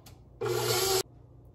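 A spatula scrapes down the sides of a mixing bowl of chocolate chip cookie dough after egg and vanilla go in, one steady close scrape of about half a second between quiet pauses.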